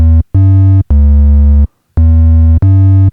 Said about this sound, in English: And as you heard before, hard clip.